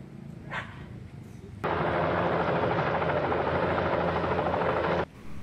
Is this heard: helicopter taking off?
yes